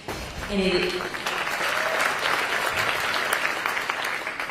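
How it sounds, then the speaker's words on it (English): An audience at a speech in San Francisco breaks into sustained applause, a broad even wash of clapping with a voice briefly audible near the start. "the clapping"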